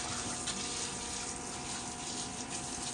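Tap water runs in a steady, unbroken stream while ginger is being washed, a close and constant hiss with no pauses.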